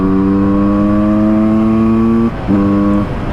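A Husqvarna SM125 two-stroke supermoto motorcycle holds a loud, close, steady rev that drops off briefly, then picks back up before easing away.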